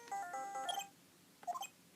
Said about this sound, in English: You pressed redial on that phone there, didn't you?